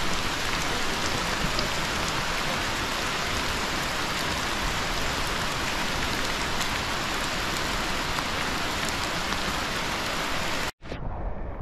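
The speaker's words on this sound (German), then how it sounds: "Kein Wunder bei dem ganzen Regen, der jetzt langsam wieder nachlässt." Heavy rain pours in the Colombian jungle on the trek to Ciudad Perdida, a loud, unbroken wash of downpour that runs almost the whole time and then cuts off abruptly near the end.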